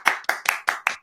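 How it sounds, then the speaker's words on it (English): A short run of about six sharp, evenly spaced hand claps, close and fairly loud, greets a woman named Carmen being introduced on stage. "let's give her a big round of applause"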